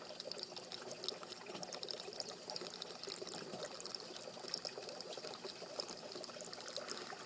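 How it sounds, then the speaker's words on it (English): Water drains through an aquaponics bell siphon in a fish and grow-bed setup, a soft continuous trickling and gurgling stream that stays fairly quiet and steady throughout, with no voices. "You can hear the siphon starting."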